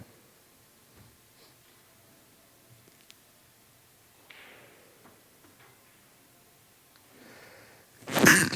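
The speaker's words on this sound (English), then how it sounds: "I had to sneeze" A single sharp sneeze bursts out near the end, loud and close, after a stretch of quiet room noise with faint taps in the background of a pool hall.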